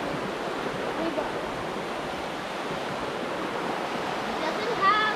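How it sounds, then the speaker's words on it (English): Water from a river runs through a small village pond in monsoon-season Kerala, a steady broadband rush of flowing water heard nearby throughout, with no voices. "The water is coming there and going through here."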